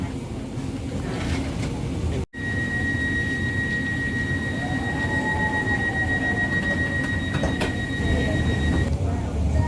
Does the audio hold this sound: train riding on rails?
yes